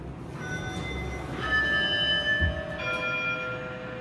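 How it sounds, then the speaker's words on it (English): A Schindler 3300 machine-room-less elevator sounds a chime while going down, with several clear tones ringing out one after another over a low hum of car and machinery. "Triple chime going down."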